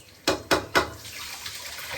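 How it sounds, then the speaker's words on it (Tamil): Three quick splashy bursts of water in a row, each spilling into a pot of fish curry, followed by a faint, lingering trickle. "தண்ணி ஊத்திக்கிறேன்"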